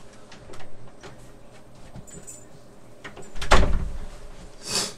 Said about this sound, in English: Not actually, she was just flicking the little handle to my door.